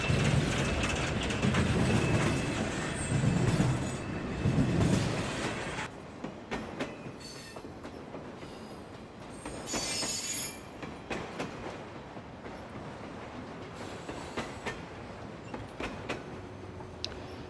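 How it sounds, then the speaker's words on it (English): A long train rolls past, loud rumbling and clanking railcars at first, then a steady rattling of wheels on track continuing at a distance. "If you're on the road long enough, eventually you'll get stopped by a train."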